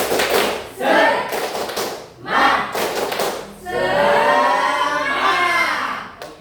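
Students in a school counselling session perform a rhythmic spirit clap, bursts of group clapping in patterned beats broken by short pauses, with raised voices and a cheer near the end.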